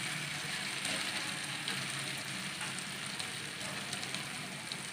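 Finely chopped onion frying in a pan, a steady close sizzle that holds evenly the whole time, with no voices.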